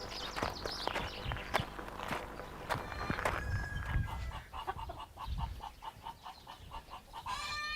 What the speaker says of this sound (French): Élevage de coqs limousins.